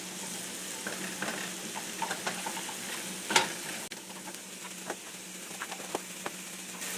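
Mushrooms sizzling in butter in a frying pan while being stirred, a steady crackling fry with soft scraping and occasional clicks of the utensil against the pan.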